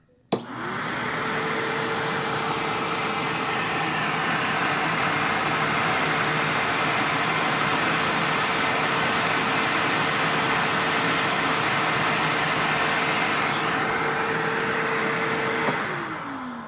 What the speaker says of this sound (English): So I'm going to turn the vacuum on